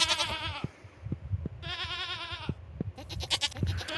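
Goats in a Stardew Valley video game barn bleat in a series of loud, wavering cries, several overlapping, with soft clacking and shuffling sounds between calls.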